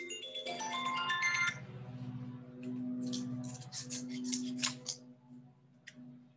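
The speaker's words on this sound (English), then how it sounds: "And then finally, I need to cut out the two antennae." Scissors snip out small paper butterfly antennae in a few short, crisp cuts up close. The cuts come over a soft, sustained tonal hum, and nobody talks.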